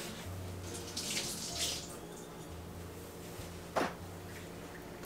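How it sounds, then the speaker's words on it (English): Tap water runs steadily over a carbon filter from a dog water fountain being rinsed at a sink, a continuous close splashing hiss with a low hum underneath and one brief louder splash near the end. "Rinse the carbon filter and insert it into the housing with the back side facing the pump."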